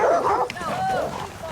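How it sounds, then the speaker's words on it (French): Dogs bark and yip in short bursts close by, mixed with someone talking over them in an outdoor setting. "Ils aiment aboyer."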